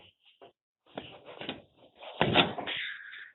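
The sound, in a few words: John Deere S600 combine radiator access door latches opening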